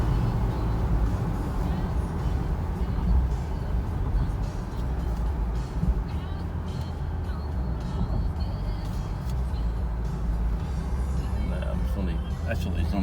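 Rental BMW 330i driven in sport mode, a steady, fairly loud engine and road drone from inside the cabin that holds throughout with little change, while the driver talks over it.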